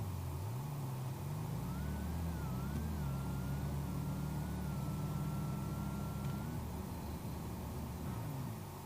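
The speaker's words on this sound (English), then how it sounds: "Rooster's been moving that car tonight" A street drag race car's engine drones and climbs steadily, with a rising whine over a low, rough rumble. It is heard at a moderate distance, fairly quiet and continuous, with no talking.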